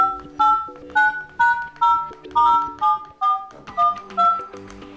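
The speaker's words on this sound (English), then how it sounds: "from now on you will be able to hear each number" Dial pad tones on a Nokia 800 Tough phone beep one after another as numbers are tapped, about a dozen short, clean, evenly spaced tones heard alone.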